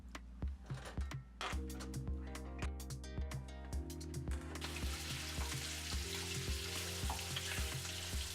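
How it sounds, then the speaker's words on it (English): Andouille sausage fries in olive oil over medium-high heat, with quiet, steady crackling and frequent ticking pops, plus a low hum underneath. "Turn sausage occasionally until brown."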